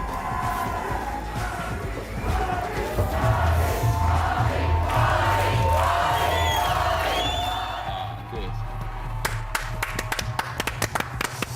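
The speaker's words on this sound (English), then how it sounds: "massive cheers. Some are cheering too." A large studio crowd cheers, yells and claps continuously at a Celebrity Big Brother UK 2018 eviction, a loud roaring mass that stays steady before sharper claps and whoops break through near the end.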